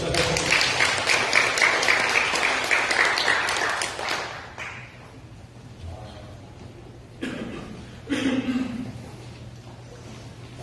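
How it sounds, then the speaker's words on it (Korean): A church congregation claps for the accompanist in a lively burst of many hands that fades after about four seconds, leaving quieter room sounds and brief voices. "박수"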